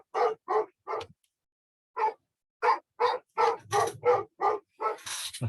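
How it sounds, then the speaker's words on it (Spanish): A neighbour's dogs bark in quick bursts, several sharp woofs with a short pause and then a denser run of barks and yips, heard up close with no voices. "Lastimosamente tengo un vecino aquí con perros"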